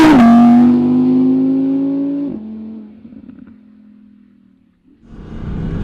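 A yellow 2019 Audi R8 V10 Performance supercar with a naturally aspirated V10 gives a loud, close engine roar that settles into a steady drone, fades to a low idle, then swells again.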